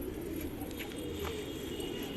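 Pigeons coo on a rooftop, soft, low repeated cooing murmurs against a steady outdoor background hum, with a couple of faint higher chirps.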